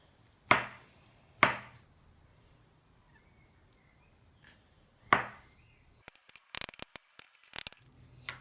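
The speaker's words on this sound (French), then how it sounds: "Donc, on coupe rapidement." A knife chops food quickly on a cutting board with a few sharp, separate cuts spaced seconds apart, followed by a quick flurry of light tapping, all fairly quiet with no talk.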